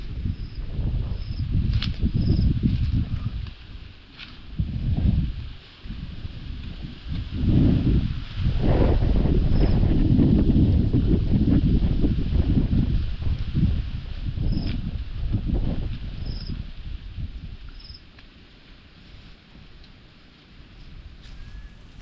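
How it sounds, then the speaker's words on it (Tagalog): Strong wind gusts rise and fall in heavy, rumbling surges, buffeting close to the microphone, with faint high chirps in the background, outdoors in the Philippines. "lakas po ng hangin din eh, ngayon oh"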